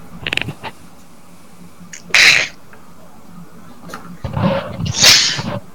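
A sneeze bursts out during a tabletop role-playing game session, short and sharp, with a second sneeze-like burst following a few seconds later amid faint background murmur.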